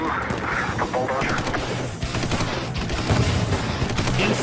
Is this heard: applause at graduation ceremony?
no